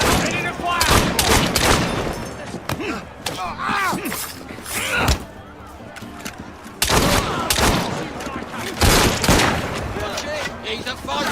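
Gunfire from the Assassin's Creed Syndicate video game comes as dense, loud volleys of repeated shots. It runs in bursts over about eleven seconds, with a short lull near the middle, and game voices are mixed in under the shooting.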